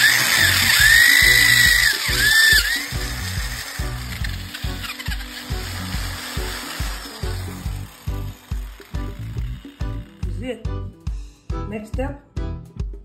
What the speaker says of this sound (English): Now to my last drill, the big drill.